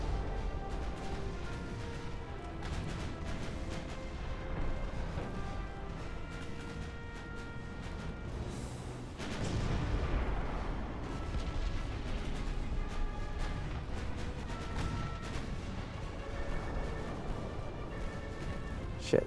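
Naval gunfire from warships in a battle in Ultimate Admiral: Dreadnoughts: repeated heavy booms and blasts, with a large near burst midway, under a steady bed of battle noise and music, no talk.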